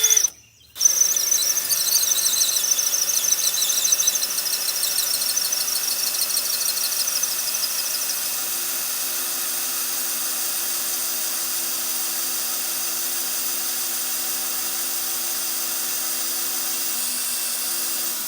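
A drill bores a hole in wood in the woods, a steady high whine held for many seconds after a brief start, loud and close with no talk.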